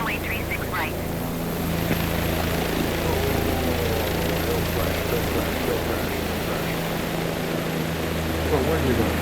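A JetBlue airliner takes off in Microsoft Flight Simulator, a steady, loud jet engine roar with a low droning hum running throughout while people talk over it.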